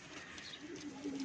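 Flying pigeons for sale at a loft give a faint, brief low coo near the end, soft and close against a hissy background.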